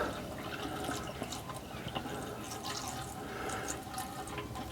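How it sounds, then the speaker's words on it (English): Hot water poured into a caravan sink drain, a steady wash of running and splashing liquid with faint drips throughout, fairly quiet and continuous with no talking. "So what I'm going to do now is add the hot water."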